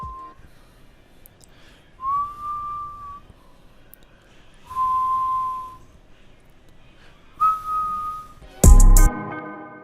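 A lone whistler plays short sustained melodic phrases in separate bursts with pauses between, ending in a brief loud clatter.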